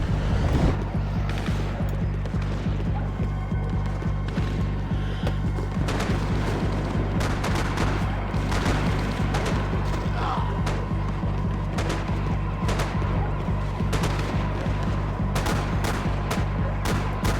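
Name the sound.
gunfire from shooting cops in Max Payne 3 video game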